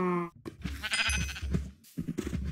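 Sheep bleating in the Minecraft video game, several short wavering bleats in quick succession, loud and close, with no talking over them.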